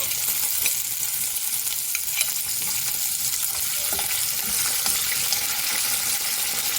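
Green chillies and garlic sizzling in hot oil in a pan, a steady dense hiss with small crackles and occasional stirring scrapes, close and continuous with no talking.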